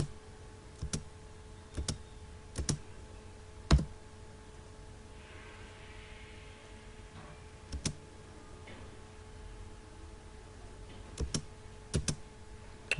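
Computer keyboard keys tapped while entering AutoCAD commands, a handful of sharp isolated clicks and short bursts spread across the stretch with quiet gaps between, fairly close and alone.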